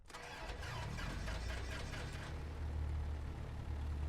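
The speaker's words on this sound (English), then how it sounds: "Parking brake is now fully on, and let's start the airplane." A light propeller airplane engine cranks with a few rapid chugging turns, then catches and settles into a loud, steady low rumble at close range, with no voices.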